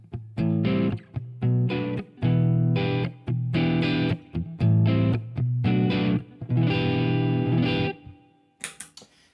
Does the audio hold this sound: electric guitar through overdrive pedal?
yes